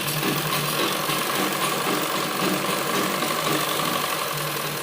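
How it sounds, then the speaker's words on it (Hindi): A sewing machine runs a steady, continuous stitching line along gents' underwear fabric, holding down the seam with an even motorized whir from start to finish, close and fairly loud with no talking. "एक दबी हुई सिलाई हम इनके ऊपर लगा देंगे।"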